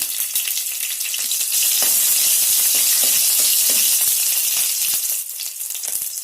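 Cumin, dried chilli pieces, curry leaves and bajji chillies sizzle loudly in hot oil, a dense, bright hiss with crackling pops that swells in the middle and settles slightly toward the end, with no voices.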